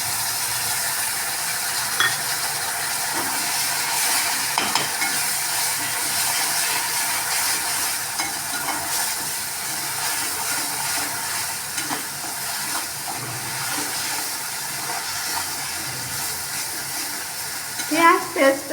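Onion paste fries with spices in a pan while being stirred, giving a steady soft sizzle with scraping and clicking stir strokes throughout, near and moderately quiet, ending in a few louder scrapes.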